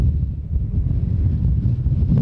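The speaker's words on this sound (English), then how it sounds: "It's extreme. It's windy. I'm about to blow over." Strong gusts batter the microphone at Willow Springs International Raceway with a continuous low, buffeting rumble, loud and unbroken throughout.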